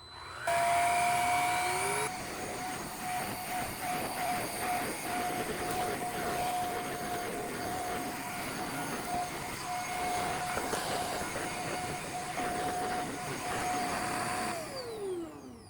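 A handheld vacuum with a rubber roller runs on carpeted stairs, whirring steadily at moderate volume for about twelve seconds with scraping and brushing texture before spinning down and cutting off.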